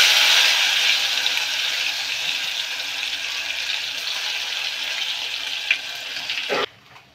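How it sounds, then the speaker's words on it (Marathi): Garlic-ginger paste frying hard in hot oil with cumin and curry leaves, a dense, steady hiss filling the whole clip, tapering slightly before cutting off abruptly near the end. "बऱ्यापैकी तळलं हे."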